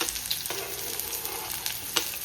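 Chopped onion hits hot oil already crackling with mustard seeds, cumin, curry leaves and garlic, giving a steady close sizzle with stirring scrapes and a few sharper pops throughout.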